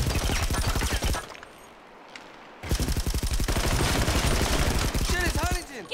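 Rapid automatic gunfire in GTA Online, loud sustained bursts of shots with a brief lull in the middle, then another long volley, with voices shouting amid the shooting.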